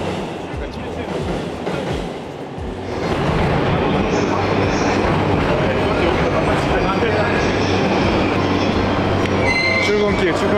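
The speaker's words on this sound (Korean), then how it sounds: "지하철 타고 이동할 겁니다." A subway train in Japan rumbles loud and steady from inside the car, its wheels rattling and a faint squeal rising once it picks up speed, with voices murmuring underneath.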